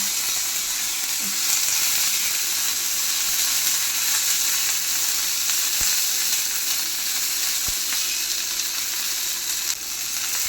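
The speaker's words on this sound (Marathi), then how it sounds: "बारीक गॅसवर असं छान लालसर होऊन द्यायचा, परतायच्या मिरच्या" Green chillies sautéing in a pan over a low gas flame, giving a steady, loud, continuous sizzle and hiss heard up close, with a couple of faint taps against the pan.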